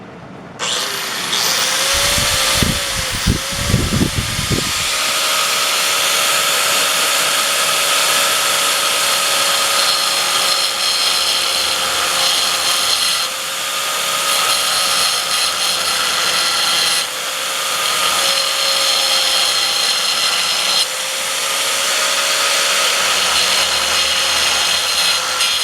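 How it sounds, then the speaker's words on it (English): A cutoff wheel roughs out metal in a long, loud continuous grinding whine with a steady tone, briefly interrupted by a few pauses and restarts. "I'm going to come through and rough it out with a cutoff wheel"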